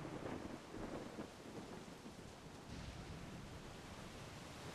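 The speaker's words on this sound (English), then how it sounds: "Ah, thunder." Thunder in the pirate video game Assassin's Creed 4 Black Flag out at sea: a faint, low rolling rumble blended with steady rain-like hiss, continuous with no voices.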